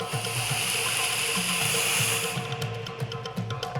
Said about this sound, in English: The water churns as if an enormous force from the depths has been unleashed.